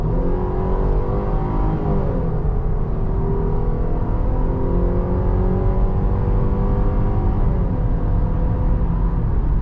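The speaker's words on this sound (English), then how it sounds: "All right, we're gonna get this thing on the highway," A 2022 Jeep Grand Cherokee accelerates onto a highway, its engine droning loudly and steadily from inside the cabin, with pitch rising through the gears and road roar underneath.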